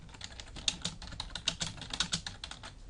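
Rapid typing on a computer keyboard, with a quick irregular patter of close, crisp key clicks and no talking.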